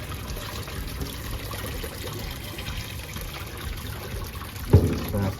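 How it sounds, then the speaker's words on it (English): Hot water and razor clams tip into a colander, a steady trickling drain with a brief heavier splash near the end, close by, with faint talk underneath. "I'm going to dump that water and these clams back into the colander."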